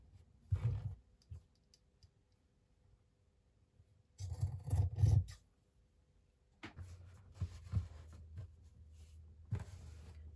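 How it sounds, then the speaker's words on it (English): Scissors trim the fringed edges of a sweatshirt, soft close snipping clicks arriving in three short clustered bursts separated by near-silent pauses. "what I'm going to do now is just trim away the fringes a little bit"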